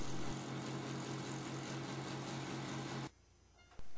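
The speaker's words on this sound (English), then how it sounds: "Then mount the wheel on your vertical sander and rotate for a perfect circle." A vertical sander motor runs with a steady, loud hum and buzz while sanding a wheel round, then cuts off abruptly, leaving quiet before a brief restart.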